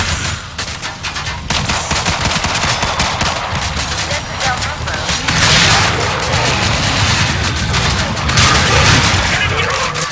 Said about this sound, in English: it's just an explosion in a hallway full of bodies